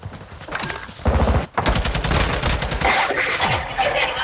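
AK rifle gunfire in a video game, a loud, close stream of rapid automatic shots in sustained bursts with a brief pause before a heavier volley, no talking.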